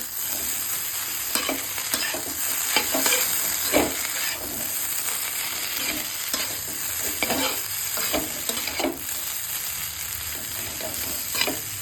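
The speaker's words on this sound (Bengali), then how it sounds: "সব কিছু আবারও মিক্স করে নেব ভালো মতন" Vegetable chow mein being stirred with tomato sauce and other sauces in a hot pan, scraping spatula strokes in an irregular rhythm over a constant frying sizzle and steam hiss, close and clear with no talking.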